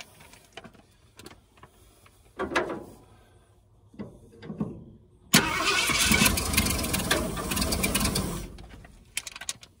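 A 1978 Ford Bronco Ranger XLT, started for the first time in over 20 years, gives a few scattered clicks and knocks, then a loud, steady engine roar as it cranks and catches for several seconds before cutting out near the end.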